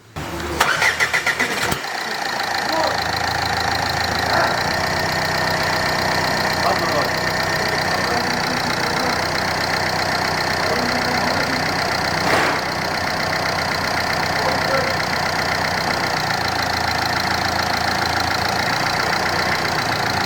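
Ford Fiesta engine cranks and catches in a quick start, then settles into a steady, loud idle that holds for the rest of the time, with no talking.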